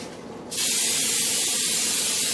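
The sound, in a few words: cooking spray sprayed into casserole dish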